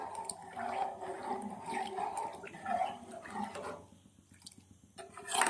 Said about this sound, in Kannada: ಈಗ ನೀರನ್ನು ಆ್ಯಡ್ ಮಾಡ್ಕೊಳ್ಳೋಣ